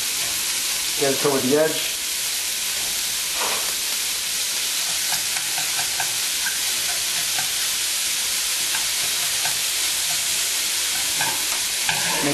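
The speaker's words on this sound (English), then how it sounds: "throw our beef right in there. Mix it around a little bit." Beef sizzles and frying in a pan over a medium-high flame, stirred with a steady scraping while a broad hiss runs throughout; a voice speaks briefly near the start.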